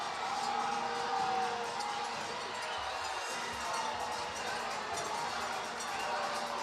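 An arena crowd at an indoor professional soccer match between the Baltimore Blast and the Milwaukee Wave reacts to a no-foul call with a steady, dense roar of voices, while a commentator talks over it.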